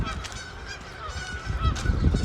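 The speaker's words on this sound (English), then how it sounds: "There's geese under it at the moment." Geese honk repeatedly under a footbridge on Wascana Lake in Regina, several calls overlapping in a close, fairly loud flock chorus with outdoor background noise.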